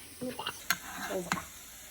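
Home fries cooking in a diner-style pan give a faint, steady sizzle, with a couple of brief scraping clicks and a voice murmuring over it.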